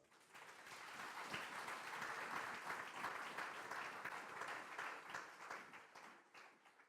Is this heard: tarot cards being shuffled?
no